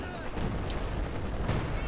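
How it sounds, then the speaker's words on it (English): Rocket launcher fire from a Panzerwerfer in a tank video game, a dense muffled barrage of distant-sounding blasts rumbling steadily under the game's background noise. "There's going to be some return fire from the Panzerwerfer"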